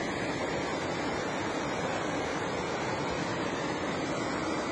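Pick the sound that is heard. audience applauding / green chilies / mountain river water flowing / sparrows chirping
mountain river water flowing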